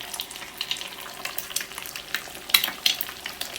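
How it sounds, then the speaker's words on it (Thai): Beaten egg for an omelette frying in a pan, a light crackling sizzle with soft spatters and a couple of sharper pops, steady and close with no voices. "แล้วก็ ใส่ไข่เจียวลงไป อันนี้เป็นไข่ที่เราตีไว้นะ"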